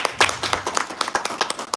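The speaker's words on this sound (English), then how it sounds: "Another round of applause for my MD." Applause from a corporate audience at an HR and AI event, a brief burst of many hands clapping at close range, fairly loud and uneven, with no talk over it.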